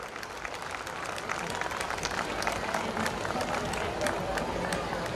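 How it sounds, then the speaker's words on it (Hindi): Applause for a student who won gold as a national-level karate champion at a school annual function, a steady wash of crowd clapping that swells slightly and holds throughout at moderate loudness. "जोरदार तालियां इस बच्चे के लिए"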